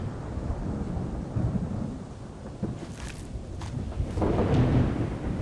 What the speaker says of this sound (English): Let me know what you guys think about the thunder.